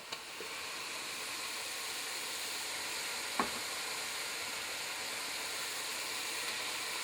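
Meat sizzling in a pot as vegetable soup is started, a steady soft hiss with one brief clink partway through.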